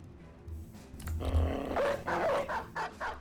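A dog barks and growls in a video game, with a few rough barks rising over a low rumbling game background partway through.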